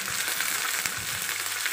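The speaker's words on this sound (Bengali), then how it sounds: "এমন বাইরে ভাজা ভাজা হয় আপনার তেলের মাঝে" Pointed gourd pieces coated with egg frying in hot oil give a steady, even sizzle that runs without a break for the whole short stretch, with no voices over it.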